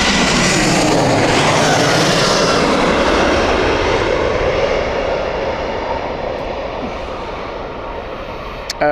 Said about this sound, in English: we'll focus on the aircraft which is coming in as well